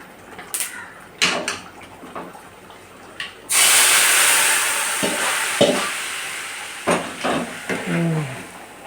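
After a few soft clinks and stirs, hot oil bursts into a loud sizzle as spices hit the pan for tempering lemon pickle, hissing continuously while utensils occasionally scrape.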